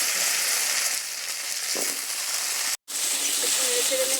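Taro pieces dropped into hot oil for a sour tamarind fish curry give a steady broadband sizzle, briefly cutting out for a moment before the frying hiss resumes.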